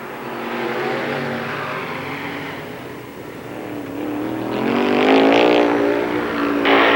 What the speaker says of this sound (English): Dave Satterley has an easy time of it, winning heat race number 1 for the All-Pro late models